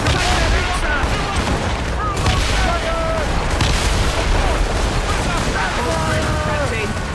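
A ship's cannon volley in Assassin's Creed Rogue Remastered, heavy booms and rolling blasts layered with crew shouting, wind and sea noise, all loud and crowded together.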